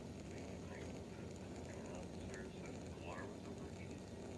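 A steam boiler leaking steam gives off a steady, loud broadband hiss that runs unbroken through the whole stretch.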